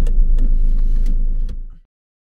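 A car driving along on the way back from a supermarket shop, with a steady low engine and road rumble that continues for nearly two seconds and then cuts off abruptly into silence.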